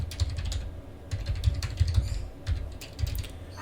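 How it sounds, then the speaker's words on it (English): Fingers type on a computer keyboard in quick, uneven bursts of close, crisp key clicks, with short pauses between runs and no voice. "So I'm gonna type the name in,"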